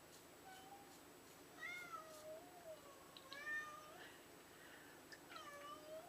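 A cat meows faintly several times from behind a closed door, muffled and distant, over a quiet hiss of background noise.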